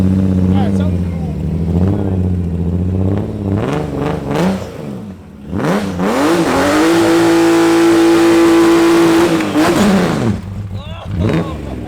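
A cheap car doing donuts, its engine revving up and holding a high, rising whine over several seconds, loud and close, with people talking over it in between the revs.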